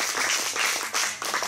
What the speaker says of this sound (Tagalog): Palakpakan natin si Lord.